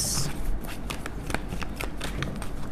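Tarot cards are handled during a reading, with repeated soft flicks, slides and taps of card stock at close range, steady and unhurried.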